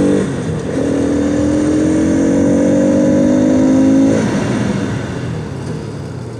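Sport motorcycle, a Bajaj Pulsar RS 200 or KTM RC 200, loud engine droning steadily under load as it slows during a rear brake test, the pitch falling slightly before the engine note settles after about four seconds.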